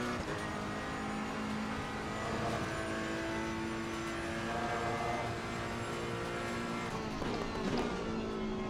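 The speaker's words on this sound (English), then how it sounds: "Release the brakes and accelerator as fast as I can, because the car permits me to do so." A car drives hard with a sustained engine drone whose pitch rises and falls through acceleration and shifts, heard steadily from within or near the vehicle without talk.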